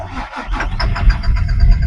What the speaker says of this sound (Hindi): कुछ इस प्रकार से गाड़ी चालू हो गई